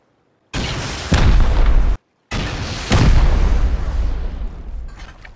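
Two loud, close explosions boom in quick succession during a Rust zombie-server raid on a fort, each a sharp blast followed by a rumbling tail that trails off.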